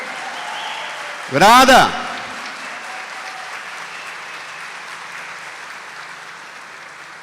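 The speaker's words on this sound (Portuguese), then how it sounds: "Dê uma salva de palmas para ele, que é o noivo." A church congregation applauds during a Sunday Mass homily, a steady wash of clapping under a single loud, sharp shout from a voice partway through.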